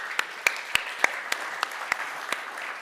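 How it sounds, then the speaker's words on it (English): A small audience at a Nordic democracy discussion claps briefly, with distinct individual claps spaced loosely over a soft background of hands, moderately close and fairly light. "we can give an applaud for the whole round of first round"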